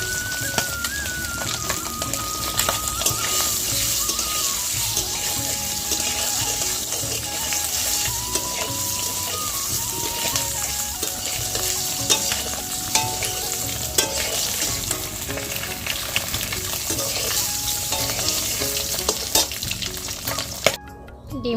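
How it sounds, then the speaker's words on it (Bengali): Turmeric-coated country chicken eggs fry in hot oil over a strong flame, giving a loud, dense, unbroken sizzle and crackle close up, with occasional light stirring and no voices throughout. "আর একটু লাল লাল করেই ভাজবে।"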